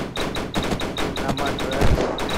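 Rapid gunfire in the survival game Unturned, a steady string of sharp shots roughly every quarter second, loud and close, with no voices over it.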